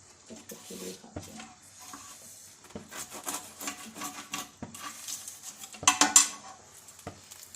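Crunchy, crackly bites of crispy fried spring rolls, with several bursts of rustling crunch and a louder crackle near the end, heard up close with no talking.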